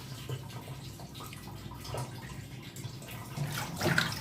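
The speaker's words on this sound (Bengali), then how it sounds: "মাংসগুলো ধোয়া হয়ে গেল।" Running water splashing over raw meat as it is washed, a continuous close gurgling and trickling that swells toward the end.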